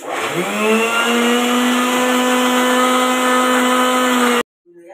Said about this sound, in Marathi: आपण बारीक करून घेऊया।